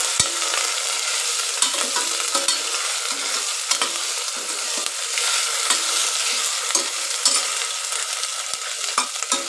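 Vegetables such as beans and carrots stir-fried in a pan, with a loud, dense, continuous sizzle and scattered spatula scrapes throughout, close and without pause.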